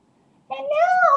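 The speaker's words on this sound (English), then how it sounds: "Hello, Mr. Kitty Cat." A domestic cat gives one drawn-out meow, clear and close, rising then falling in pitch after a moment of quiet.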